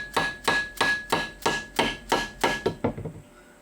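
Hammer taps on a machined metal part of a DIY magnetic deburrer, about ten sharp, evenly spaced strikes with a ringing tone, close and loud, slowing and softening toward the end before fading out.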